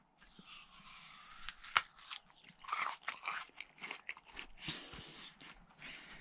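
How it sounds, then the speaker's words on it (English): A person bites and chews an apple, with several loud wet crunches and softer chewing in between, close and quiet, no talking. "This is Paul eating an apple"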